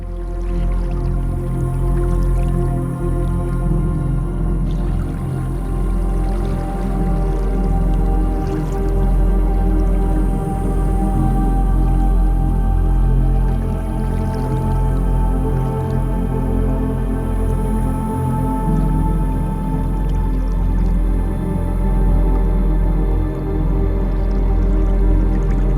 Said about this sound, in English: The water flowing from there